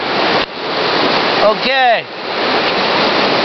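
A river rushes in a steady broadband roar. A person speaks briefly over it, and a short whistling, squeaky sweep cuts through partway.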